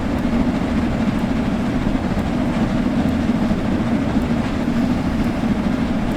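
Steam locomotive in Train Sim World 3 climbing a 1.1 gradient at about 40 mph, a steady dense chuffing rumble with rolling rail noise, continuous and close with no voices.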